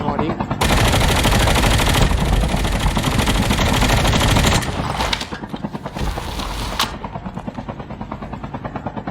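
Dense, sustained automatic gunfire in a Call of Duty Mobile battle royale match, loud and continuous for several seconds before easing into slower rhythmic bursts, with a voice talking over it.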